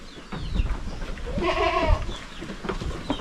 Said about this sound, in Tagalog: Daming kambing mga kaprobinsya.